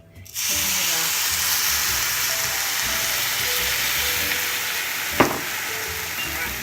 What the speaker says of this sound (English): so I'm just going to add in the soy sauce, probably about a couple of tablespoons worth